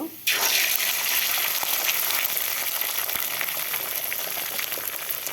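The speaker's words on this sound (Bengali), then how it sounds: "ডিমটা এখন সুন্দর করে ভেজে নিব" Beaten egg seasoned with salt and cumin hits a hot pan and sizzles loudly at once, a bright continuous frying hiss that holds steady close up with small pops scattered through.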